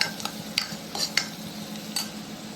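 Onions brown in a pan for Sindhi tikki while a utensil stirs them, making a few sharp scrapes and clinks over a soft, steady sizzle, close and with no voices.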